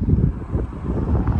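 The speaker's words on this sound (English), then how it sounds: "it's so windy that there's actual waves down there" Strong wind gusting at Walker Lake, where it whips up waves, buffeting the microphone as a loud, continuous low rumble with no one speaking.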